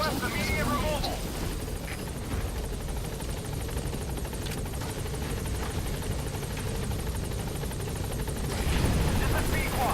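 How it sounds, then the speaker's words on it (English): A support helicopter in Metal Gear Solid V arrives with a loud, continuous rotor roar and rumble that stays close throughout, with radio-style voices talking over it. "Support helicopter has arrived."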